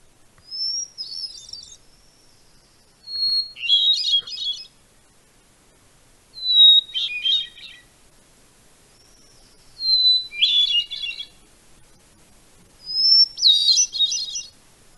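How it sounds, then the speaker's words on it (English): A hermit thrush sings alone in five clear, melodious phrases, each opening on a pure whistled note before a quick rising flourish, spaced a few seconds apart over a quiet background. "The first here is the hermit thrush, which is this very melodious bird."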